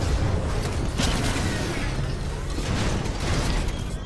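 Titan dropping into battle in Titanfall 2, a dense sustained rumble of mechanical creaks, rattles and low booms that stays loud and steady throughout, with game noise layered on top.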